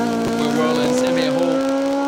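Rally cars on an asphalt stage at Rali Ceredigion, a car's engine droning loudly at steady pitch as it drives past on the tarmac, with a commentator talking over it.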